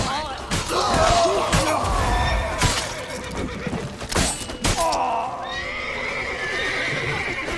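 A horse whinnies loudly and repeatedly among hoof clatter and a few sharp knocks in the video game The Witcher 3: Wild Hunt, with some shouting mixed into the commotion.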